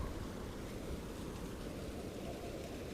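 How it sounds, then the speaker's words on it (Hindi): Rushing water from part of a waterfall near Nainital, a steady dense roar of flowing water filling the whole clip without pause, close and fairly loud, with no voices over it. "ये है वो पानी वाटरफॉल का पार्ट"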